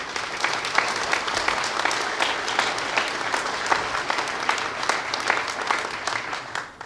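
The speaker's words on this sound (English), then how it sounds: "how about a round of applause for all those folks?" A crowd applauds steadily for city construction workers at the completion of the Levitt Shell, dense overlapping clapping at an even level throughout, with no talk.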